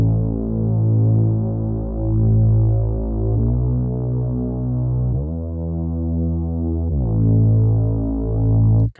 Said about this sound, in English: I just made like a little filtered bass sound.